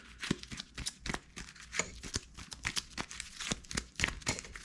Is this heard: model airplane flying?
no